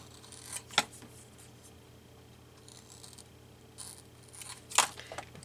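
Scissors cutting around a sticker, with a few sharp snips standing out from quiet near-silent paper handling, close and sparse.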